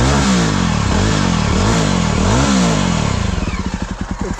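A Java Bobber 42 motorcycle engine revs repeatedly through its exhaust, each blip rising and falling in quick succession, then drops into a loud, close, lumpy idle thump.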